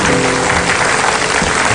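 A studio audience on an Indonesian television talk show claps, a steady, dense wash of applause filling the moment from start to finish, loud and close, with no talk.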